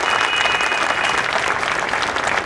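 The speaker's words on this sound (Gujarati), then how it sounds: "તેઓનું આપણે તાળીઓના ગડગડાટથી હાર્દિક સ્વાગત કરીશું" Dense, steady applause from an audience at a prize distribution ceremony, welcoming a speaker, filling the whole stretch evenly at close range.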